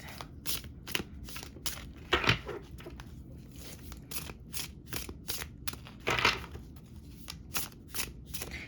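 A deck of tarot cards being shuffled by hand, rapid rhythmic riffles and flicks repeating steadily throughout, close and fairly quiet with a couple of louder bursts, no speech.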